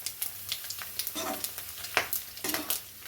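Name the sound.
mustard seeds popping and curry leaves sizzling in hot oil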